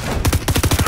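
Rapid bursts of shotgun fire in Fortnite Chapter 4 crack in quick succession, loud and close, a dense volley lasting about a second.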